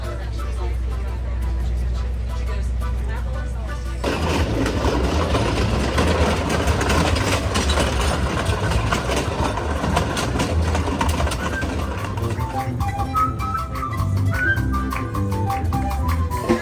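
Rumbling train ride to Machu Picchu in Peru, a continuous low rolling and clattering of the carriage on the rails, steady and close, with people talking over it.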